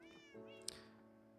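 A Minecraft cat gives a single clear, short meow, close and on its own with nothing else around it.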